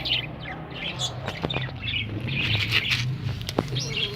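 Pet birds in an aviary, including a prized breeding pair, chirp and tweet in short, scattered calls. The calls are moderately faint over a low background hum.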